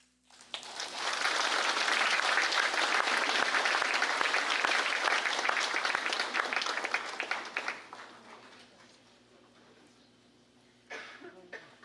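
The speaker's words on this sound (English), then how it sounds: "Can we give another round of applause to your members of the 23rd Congress?" Loud, sustained applause from a large crowd at the Federated States of Micronesia 23rd Congress organization session swells quickly, holds steady for several seconds, then fades to a low murmur with a brief stir near the end.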